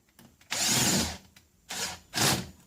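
Milwaukee cordless drill with worn brushes whirring in three close bursts, a long run then two shorter ones separated by brief pauses, no talking.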